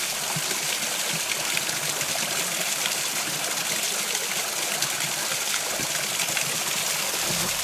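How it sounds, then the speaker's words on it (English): A small waterfall in the Australian bush spills over rocks. Its constant rushing hiss stays loud and close, with a few faint knocks mixed in. "I'm not sure if this waterfall's got a name, but I'm naming it Yowie Dan Falls."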